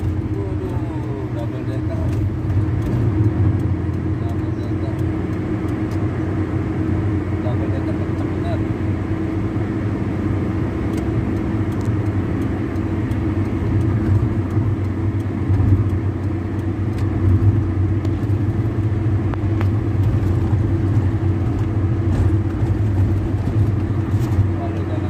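A Rosalia Indah Millennial double-decker night bus and a Kijang travel at speed, producing a steady, loud engine drone and road rumble that continues without a break throughout.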